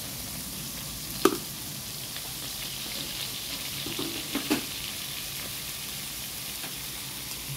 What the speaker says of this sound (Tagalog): Haluin natin ngayon.